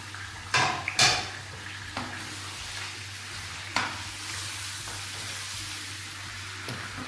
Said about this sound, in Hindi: वो फ्राई किए हुए गोश्त, जो फ्राई हो रहा गोश्त